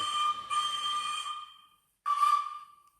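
Two blasts of a shrill, multi-tone locomotive whistle sound effect from a Hornby Flying Scotsman model train, the first long and fading, the second shorter after a brief pause, electronic and clean.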